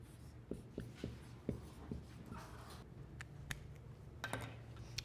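Pen writing on paper in a quiet room, a series of short scratchy strokes and taps at close range with a low hum underneath, no one speaking.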